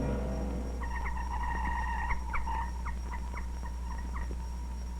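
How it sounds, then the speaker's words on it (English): A Cold War communist radio jammer interfering with a Radio Free Europe broadcast: a steady hiss and hum carry warbling, wavering tones that rise and fall in uneven bursts, continuous and moderately loud, with no talking. "That sound is a communist jammer at work"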